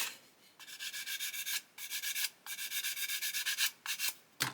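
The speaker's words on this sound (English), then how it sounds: "we can sand that down so you can get it all sort of pretty even all the way around" Worn 400 grit sandpaper rubbed on a plastic Airfix 1/72 Lancaster B.III model part gives quiet, close rhythmic scratchy strokes in bursts with short pauses, with no speech.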